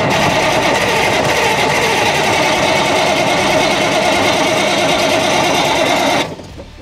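A 1981 GMC cabover with a Big Cam diesel engine runs with a loud, rapid, even clatter close by for about six seconds, then drops off sharply as it stops.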